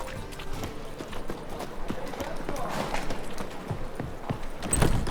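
Roach, a horse in The Witcher 3: Wild Hunt, gallops with a steady rhythmic clip-clop of hooves, close and moderately loud, mixed with ambient game sound.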